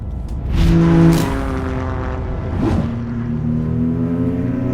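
A 2025 Toyota GR Corolla engine revs loudly up close as the car pulls away, rising through a gear with a brief dip before building again into a steady drone.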